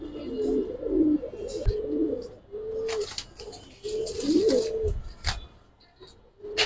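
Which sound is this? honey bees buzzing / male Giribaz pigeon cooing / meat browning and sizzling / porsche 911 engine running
male Giribaz pigeon cooing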